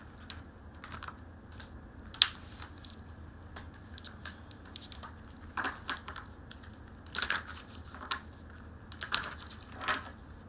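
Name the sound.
shuffling tarot cards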